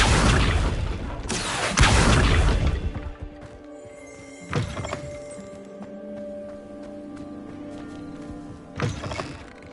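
Accio summoning spell cast in Hogwarts Legacy, a loud whooshing burst with heavy thuds, then softer magical thumps and lingering tonal shimmer, a second impact rising again near the end.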